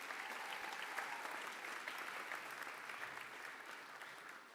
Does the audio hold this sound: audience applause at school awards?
yes